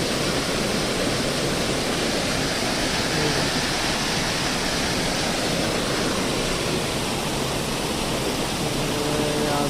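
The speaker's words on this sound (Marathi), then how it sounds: "त्या वरनं नदीतून पाणी येतं" River water rushing past near a village fishing spot, a loud, steady broadband roar that continues unbroken with no audible voices.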